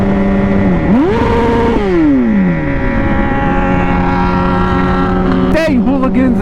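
A motorcycle engine on a Memorial Day ride near Lake Tahoe revs loudly and close, rising and falling in pitch several times over a steady idle, with a final quick burst of throttle.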